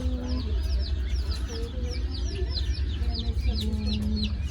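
Barnevelder chickens cluck and chirp continuously among a crowd of poultry at a chick sale, with overlapping peeps and clucks over a low rumbling background.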